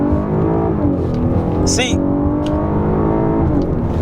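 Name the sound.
2019 Lincoln Continental with Mustang engine accelerating hard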